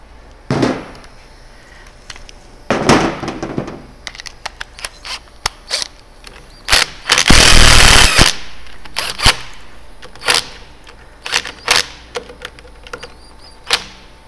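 An air impact gun drives the differential bolts on a Miata during a Torsen swap in a workshop: repeated short, loud rattling bursts, one longer sustained hammering run, close up and with no talk.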